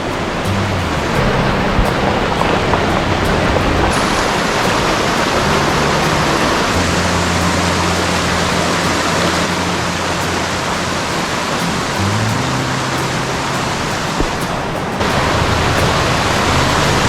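Creek water in Crazy Woman Canyon rushes steadily in a broad, unbroken wash, close and loud for the whole stretch with no breaks.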